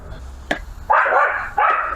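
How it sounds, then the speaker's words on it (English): Neighbouring dogs bark outdoors in two bursts, a short sharp yap followed by a longer run of loud overlapping barks and then another bark, fairly close and carrying over a quiet background. "The neighbor's dogs say hi."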